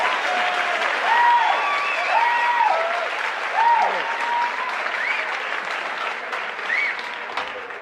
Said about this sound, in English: Thanks for applauding.